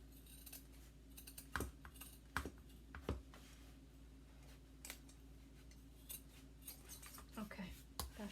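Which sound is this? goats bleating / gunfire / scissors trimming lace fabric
scissors trimming lace fabric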